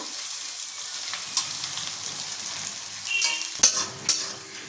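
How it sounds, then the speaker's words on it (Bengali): Ginger and green chilli fry in a pan for a Bengali muri ghonto, a soft steady sizzle with light stirring scrapes and two sharp utensil clinks near the end. "এবার আদা আর কাঁচা লঙ্কাটাকে ভালো করে একটু ভাজা ভাজা করে নেব"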